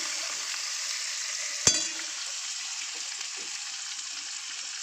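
Mushroom chicken with yellow capsicum lightly frying in a pan, a steady close sizzle throughout with one sharp clack of a utensil early on, no voices.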